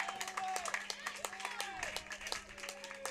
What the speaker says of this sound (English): And that gets a nice little cheer from the Dragons faithful.